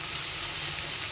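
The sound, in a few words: okra frying in a pan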